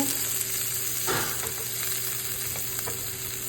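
Chopped onion, garlic and ginger sizzle steadily in a hot pan, a close, continuous frying hiss broken by one brief stirring scrape early on, with no voices.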